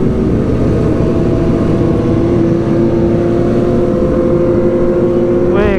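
Honda CBR sport motorcycle engine at a superbike gathering in Jakarta, a loud continuous low roar held steady throughout, with a brief rising rev near the end and crowd noise beneath.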